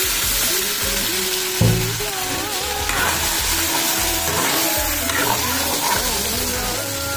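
Meat and tomato gravy sizzles and bubbles in a pan after a splash of water, with steady frying hiss, stirring scrapes and clatter, close and loud throughout.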